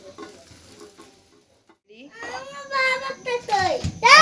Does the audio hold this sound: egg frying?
yes